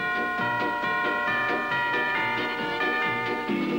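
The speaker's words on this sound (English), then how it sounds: "Mitchell rings the bell for me." A bell rings in a 1950s–60s television beer commercial jingle, with repeated bright metallic strikes carried over a sung melody and steady background music throughout.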